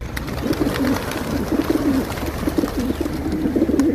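Many pigeons in Karachi cooing together close by while being fed, a continuous low burbling murmur with overlapping calls and faint rustling in the background.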